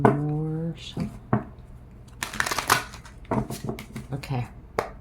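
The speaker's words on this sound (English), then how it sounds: "Let's get one more shuffle." A deck of cards gets shuffled close by in a few quick riffling bursts, mixed with handling noises and brief speech.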